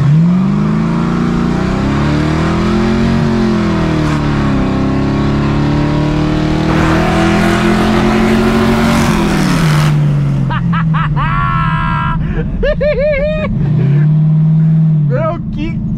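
A V8-powered Chevrolet Chevette engine roars loudly, revving up through rising pitch sweeps and shifting gears, with people talking and exclaiming over the noise near the end.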